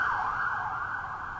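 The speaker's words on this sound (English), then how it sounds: "I'm going to let the siren go by." An emergency vehicle siren passing outside a cemetery, a loud wailing tone sweeping up and down across the short span, standing alone without speech.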